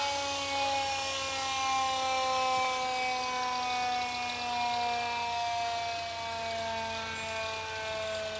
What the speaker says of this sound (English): You can tell that is like a pretty vintage fire engine. That long drawn-out siren.